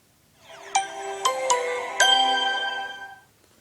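Samsung Galaxy S6 and HTC Touch Pro 2 phones powering on, giving a short rising startup chime of bright tonal notes with four sharp accents over about three seconds, heard alone and fading out cleanly.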